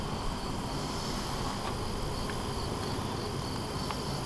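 Honeybees humming around an open hive frame during a beekeeping inspection, a constant, fairly quiet droning buzz that holds steady throughout.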